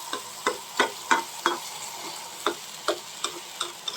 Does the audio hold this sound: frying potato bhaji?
yes